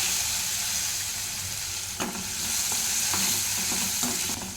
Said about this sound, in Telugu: ఇప్పుడు ఇందులోనే కడిగి పెట్టుకున్న శనగపప్పు వేస్తున్నా